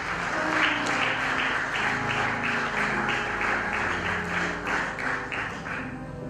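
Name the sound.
audience applause in a church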